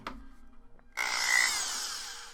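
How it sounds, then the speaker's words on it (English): A power drill drives screws into a computer motherboard. After a few faint clicks it spins up into a close, steady whir that builds slightly and holds to the end. "We'll just drill them in real quick."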